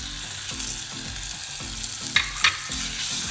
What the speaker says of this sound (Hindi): लहसुन और प्याज हमारा फ्राई हो गया, अब इसमें हम चिकन ऐड कर देंगे